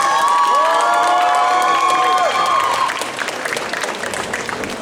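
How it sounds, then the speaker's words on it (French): Crowd at a cosplay contest cheers and shouts loudly, with high excited voices over clapping that continues steadily as the cheering eases. "Applaudissements s'il vous plaît, j'entends rien"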